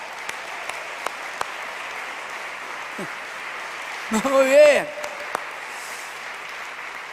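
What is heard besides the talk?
congregation applauding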